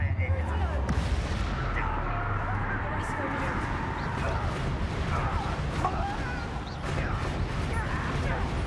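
A spell's blast goes off in the Hogwarts Legacy video game as booming explosive bursts over dense rumbling game ambience, with a voice speaking over the action.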